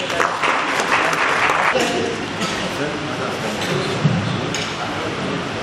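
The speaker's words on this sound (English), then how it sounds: "Please round of applause." An audience at the 2022 Nigerian Society of Engineers annual general meeting applauds, giving a dense, steady patter of clapping that holds for several seconds in a large hall.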